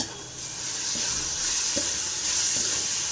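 Carrot halwa with cashews and cardamom is stirred in a hot pan, a steady sizzle with soft periodic scrapes of the spoon, close and alone without talk.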